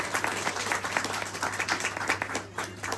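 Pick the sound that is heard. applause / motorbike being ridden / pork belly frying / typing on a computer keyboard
applause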